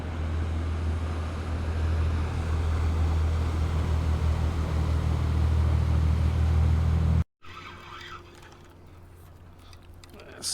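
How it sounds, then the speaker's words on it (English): A deep, steady rumble of a large boat's engine passing through an ocean inlet at Ocean City, Maryland drones nearby for several seconds, then cuts off abruptly to quieter ambient noise. "Big boat coming through the inlet"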